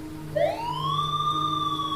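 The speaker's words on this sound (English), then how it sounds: "the sound of sirens cut through the night" A police siren wails upward and holds a steady rising tone over a low engine hum, fairly close and continuous.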